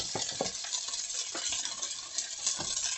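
Rice stir-fries in a pan with a constant close sizzle, punctuated by repeated scraping strokes of a utensil against the pan.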